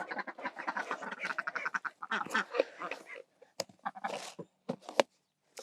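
A group of farm ducks quacks in busy bursts at feeding time, with the calls close and overlapping before thinning into scattered single quacks.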